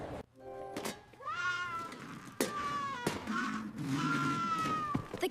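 A house cat meows several times in a row, clear and fairly close, with rising and falling drawn-out calls and short pauses between them.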